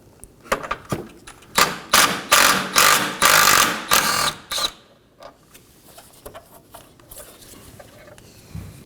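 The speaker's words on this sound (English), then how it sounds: "I'm going to start off by removing this bottom 10mm mounting bolt" A ratchet loosens the lower 10mm headlight mounting bolt on a 2015-2023 Nissan Maxima, clicking in fast close bursts that end at about five seconds, followed by faint handling noises.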